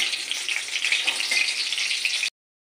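Bay leaf and a dried red chilli tempering in hot oil for potato dum, a steady close sizzle of frying spices that runs unbroken for about two seconds and then cuts off to silence.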